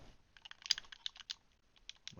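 Rapid mouse or keyboard clicks while playing Doki Doki Literature Club, a quick irregular run of sharp close taps with no talk.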